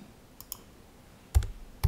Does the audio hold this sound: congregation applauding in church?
no